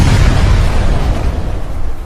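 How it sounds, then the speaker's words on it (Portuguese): A deafening thunder boom from lightning striking a shotgun barrel, a heavy low rumbling blast that fills the whole moment and sustains loudly without any talk. "Um raio cai bem no cano da espingarda."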